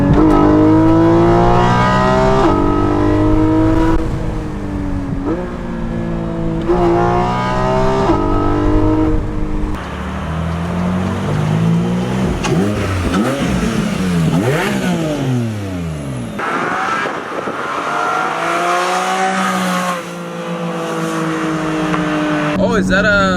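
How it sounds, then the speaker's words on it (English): A car engine breathing through a BMC air filter revs hard and close, pitch climbing and falling in repeated pulls, with a deeper, rougher stretch near the middle before rising again. "I put a BMC air filter on here, and the intake now it's a good volume increase for sure."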